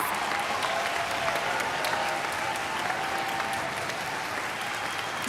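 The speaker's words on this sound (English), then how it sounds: "Let's give them one big round of applause." Sustained audience applause at a string school concert, a steady, loud wash of many hands clapping with faint crowd noise, holding evenly throughout.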